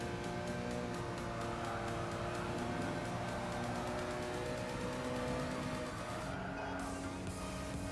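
A BMW M3 E46 in Gran Turismo Sport roars steadily at high revs with a continuous engine drone, brief tire squeal as the car slides into a drift, loud and sustained throughout.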